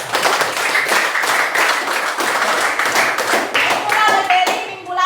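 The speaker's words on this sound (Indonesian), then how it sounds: "beri aplaus bagi yang sudah menjawab" Classroom of students clapping for classmates who answered, brisk and close, a dense burst of many hands that tapers off near the end.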